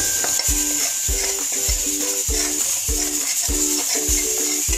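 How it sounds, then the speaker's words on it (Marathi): Besan (gram flour) dry-roasting over a low flame in a kadhai, a spoon scraping and stirring in a steady repeated rhythm, about eight strokes, each with a dull knock against the pan over a constant soft hiss. "कढईमध्ये आपल्याला 1 वाटी बेसन घालायचं आहे आणि बेसन छान स्लो गॅसवर छान भाजून घ्यायचं आहे आपल्याला खमंग"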